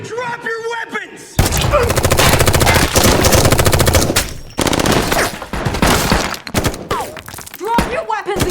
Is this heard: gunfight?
yes